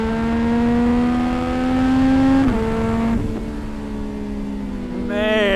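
A CFMOTO 675 SS motorcycle fitted with a Yoshimura exhaust holds a deep, loud engine note, then drops pitch through rev-matched downshifts before revving up again at the end, heard close by.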